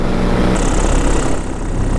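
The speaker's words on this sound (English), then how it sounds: "the engine's running leaner, which might not be a bad thing, a little extra heat in this cold" A paramotor engine runs steadily in bitter cold at minus 17, a loud, close, continuous drone with no pauses.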